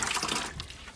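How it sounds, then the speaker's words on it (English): Water poured from a container onto flower pots in an outdoor garden: a brief, splashy gush that cuts off midway, leaving faint drips, fairly close and with no talking. "now I need to go water them"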